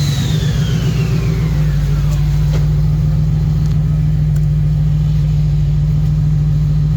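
A faulty 2014 Ford GT500 V8 runs on a dyno, a loud, close, sustained engine drone with a deep steady rumble, opening with a falling whine as revs settle, steady to the end.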